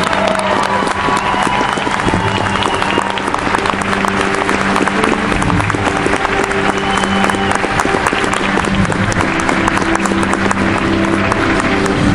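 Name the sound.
audience applause at army recruit graduation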